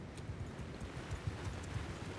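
Horse archers riding in a Mount & Blade II Bannerlord battle, a steady low drumming of many hooves rolling on without pause under faint wind, no voices.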